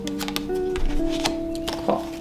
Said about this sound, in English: I'm not a good shuffler.